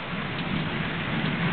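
Steady, dense rain pattering down nearby, a continuous close hiss with no voices.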